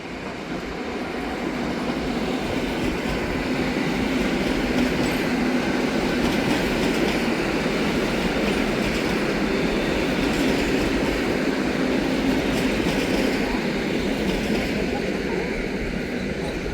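A TLK passenger train rolls steadily through Warszawa Wschodnia station on a rainy morning, a loud continuous rumble and clatter of wheels that lasts the whole stretch, with a voice faintly present underneath.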